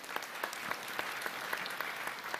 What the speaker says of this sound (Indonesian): sekali lagi tepuk tangan untuk semua teman-teman imigrasi